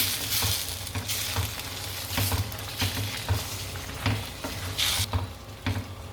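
Cooked minced mutton (kothu kari) frying in a pan, a loud continuous sizzle with repeated scraping strokes of a spatula turning the meat.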